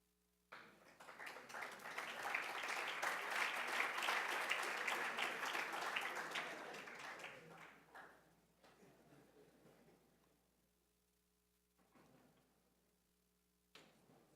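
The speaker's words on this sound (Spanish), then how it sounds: "Recibamos con un fuerte aplauso" An audience applauds in a hall to welcome an engineer at a conference, a dense burst of clapping lasting several seconds before thinning into scattered claps and quiet.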